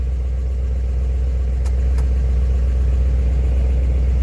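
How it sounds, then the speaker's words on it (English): A 1956 Ford Fairlane Victoria engine idles in a steady, close, loud low rumble, with two brief clicks partway through and no talk. "Can't hear it with the motor running."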